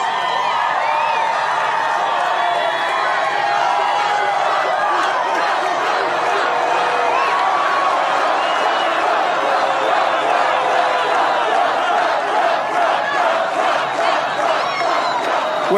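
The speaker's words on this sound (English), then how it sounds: "That's a big crowd of people." Large crowd at a Donald Trump campaign rally in Pickens, South Carolina, roaring and cheering steadily as he takes the stage, a dense continuous wall of voices with scattered shouts throughout.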